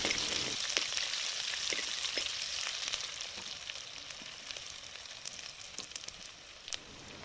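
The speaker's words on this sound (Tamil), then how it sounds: "வெங்காயத்தை சேர்த்து நல்லா வதக்கி விட்டுக்கலாம்." Onions sizzle steadily as they sauté in a hot pan, with crackles and pops scattered through a soft hiss and no talking.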